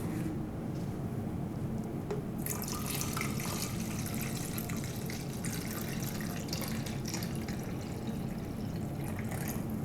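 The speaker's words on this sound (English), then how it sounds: "And then I'll put my water up to 500 mLs." Tap water pours steadily into a graduated container holding film developer, filling toward 500 mL; a dense, continuous rushing splash that grows brighter after a couple of seconds, with no talking.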